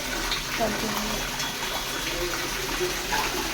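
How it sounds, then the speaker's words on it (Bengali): Plain water poured over a pet at bath time, a steady close splashing pour running the whole stretch with broadband wash and faint low rumble beneath. "আজকে হালকা খালি জল ঢেলে দিব"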